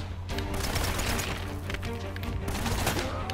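Gunfire in the video game Uncharted: Drake's Fortune, a dense, loud, continuous barrage of overlapping shots and blasts with no talking.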